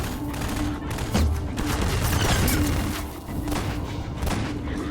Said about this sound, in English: I'm just gonna keep getting shot.